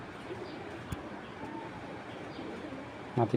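Low, soft pigeon coos murmur nearby over a quiet room background, with a louder burst of cooing near the end.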